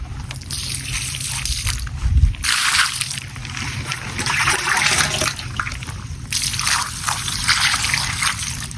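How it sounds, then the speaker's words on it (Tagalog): Rainwater being scooped from a half-full drum and poured to wash feet outdoors, with steady close trickling and dripping, splashing and sloshing throughout. "Ako po'y kukuha at ako po'y maghugas ng aking paa."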